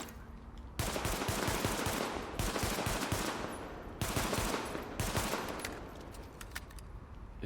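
Unsilenced gunfire from The Division beta: loud, dense bursts of automatic shots in long sustained volleys with short breaks, close and continuous, no talking.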